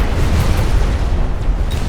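Loud, continuous battle din from the Mechabellum strategy game, with dense rumbling booms and explosions running without a break under no talk.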